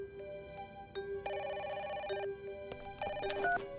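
In a cartoon, a telephone rings with two bright electronic bursts separated by a short pause, clear against quiet background hiss and with no voices.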